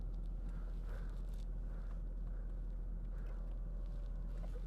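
The electric front seat of a 2014 Audi A8 3.0 TDI Quattro adjusts with a faint, steady motor whir and low hum that runs continuously for several seconds inside the cabin, with no talking.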